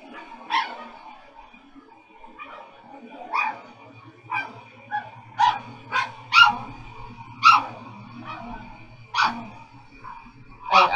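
Dogs bark repeatedly at home, a string of sharp yips and barks with some whimpering, clustered in irregular bursts at close range over a quiet background.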